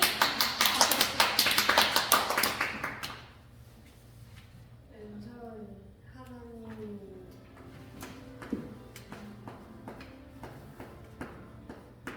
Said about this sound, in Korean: 그럼 우리 예솔이 한번 박수.